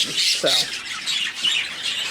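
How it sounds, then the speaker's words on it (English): Caged pet birds, including a violet opaline, chirping and squawking in a continuous busy chatter of short, high calls close by. "Scrappy babies who are really nice birds."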